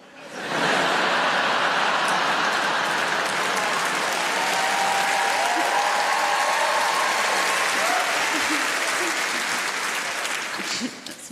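Loud, sustained applause from a large comedy show audience, a dense wash of clapping that holds steady for several seconds before tapering slightly at the end.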